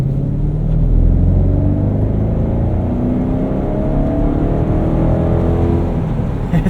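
A 2013 BMW X5 xDrive50i E70 accelerates hard from inside the cabin, its engine a loud, continuous low roar that climbs steadily in pitch, with no talk over it.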